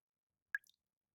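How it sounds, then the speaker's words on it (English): A single water drop in the video game Nikke falls with a crisp, bright plink, followed by a couple of faint splashy ticks in otherwise total silence. "Drip, drip? Who's dripping?"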